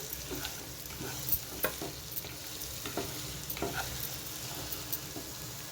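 Alisanthakaya curry stirred in a pan over a low flame, with a soft continuous sizzle and repeated scraping strokes of the spoon at an irregular rhythm, close and quiet, no voices.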